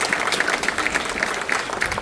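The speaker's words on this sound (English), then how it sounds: "He deserves a round of applause for that" Crowd applause at a mayor's reelection campaign announcement in Centreville, steady, fairly soft clapping across the whole stretch with no clear voices over it.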